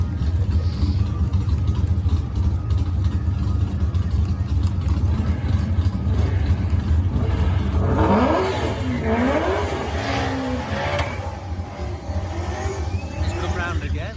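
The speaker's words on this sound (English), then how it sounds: "Some cars went round and round quite quickly doing laps." Street race car engines drone continuously at Bradenton Motorsports Park, with cars sweeping past in rising and falling whines partway through, and voices heard faintly underneath.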